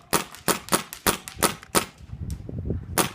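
A DG/E1 paintball gun fires a quick string of sharp, close pops, roughly a dozen shots in uneven bursts, with light clatter in between and no talking.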